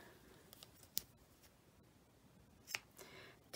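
Ribbon scissors snip through cotton ribbon strips in a few quiet, sharp cuts close by, with light rustling between them in an otherwise hushed room.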